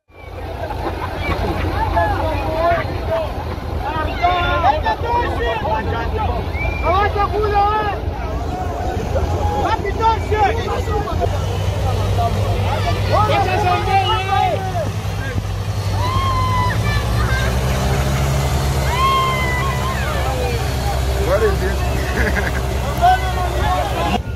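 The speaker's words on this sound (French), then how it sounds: "Une fois mis au lac, les hélices de l'hydravion conçu par le jeune Gabriel tournent, espérant le décollage" The propellers of a homemade seaplane spin on a lake, giving a low, continuous engine hum with wind buffeting the microphone. People talk loudly over the drone throughout.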